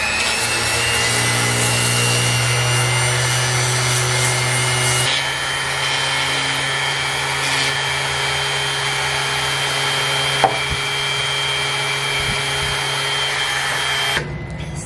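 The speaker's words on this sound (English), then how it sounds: "I think I just finished sanding this one." A clone trooper armor piece being sanded, a loud continuous abrasive rasp with a droning tool-like tone, steady for about fifteen seconds with a brief sharp tap midway and a shift in pitch partway through.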